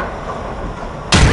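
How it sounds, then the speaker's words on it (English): Grenade blast in the shooter Combat Arms on an oil rig map, a sudden loud broadband burst after a second of steady game ambience, cut off as it hits. "Grenade!"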